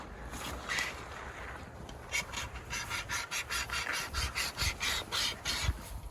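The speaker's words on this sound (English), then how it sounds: "I've got my saw here, my cable saw, and I've got a branch here from a pine tree" A cable saw cuts through a one-inch pine branch, with a steady run of quick, rhythmic rasping strokes, close and fairly loud, after a few rougher starting pulls.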